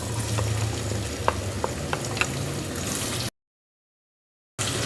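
Finely chopped large onion fries in hot oil with cumin for a capsicum and potato curry, giving a steady close sizzle with a few spoon stirs, then a brief silent gap before the sizzle resumes.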